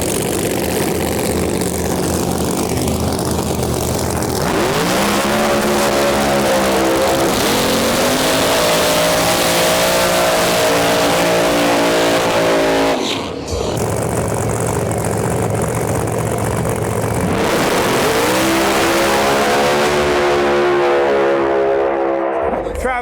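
Drag race cars on a qualifying pass at the U.S. Street Nationals roar at full throttle in long loud engine runs that rise in pitch, with a brief gap between passes.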